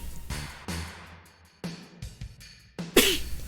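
Several sharp sneezes and cough-like bursts from a person playing Final Fantasy 7, close to the microphone, spaced unevenly, with the loudest one at the end.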